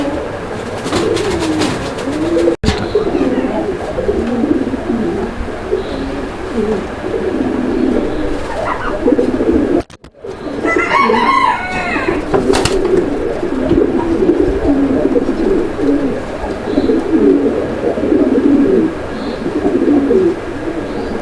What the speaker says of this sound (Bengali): যেটা ডাকাডাকি করতেছে এটা হচ্ছে নর